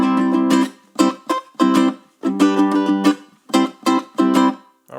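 Rhythmic ukulele strumming of a song in short bursts, with muted chops cutting the chords off between strokes, played close and clear.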